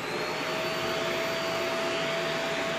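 A vacuum cleaner hose sucks dust out of a computer, making a steady loud roar with a high whine. It runs continuously and up close, with no talk.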